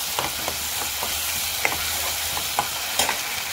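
Onion, garlic and ginger paste with Kashmiri chilli powder and salt sizzles steadily in hot oil, a continuous close frying hiss broken by light scraping stirs of a spatula; no voices.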